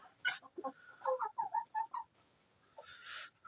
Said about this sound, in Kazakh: Так, менде кучинский тауықтарым.